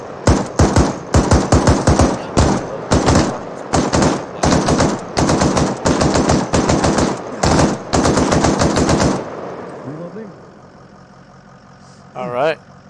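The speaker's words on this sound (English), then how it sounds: "we need suppressive fire down that, right where the smoke is at" Sustained machine gun suppressive fire in the military video game ArmA 3, with loud rapid bursts in quick succession for several seconds before dropping to a quieter background with faint engine hum and a brief distant sound near the end.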